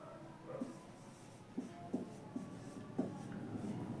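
Chalk or marker strokes on a board during a physics class, a series of short scratchy taps and scrapes spaced irregularly over a quiet room, fairly faint with no voice over them.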